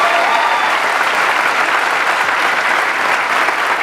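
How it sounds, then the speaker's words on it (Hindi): A stage audience breaks into loud, steady applause, a dense wash of clapping that holds at full strength without letting up, with no talk over it. "इनके लिए एक जोरदार तालियां इन सबके लिए"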